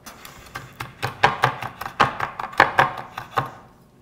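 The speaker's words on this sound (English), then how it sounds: "Just pick off the stems. Just give it a rough chop." A knife chops fresh basil leaves, stems picked off, on a cutting board in a rough, irregular rhythm of about a dozen crisp, close thuds, with no talk over them.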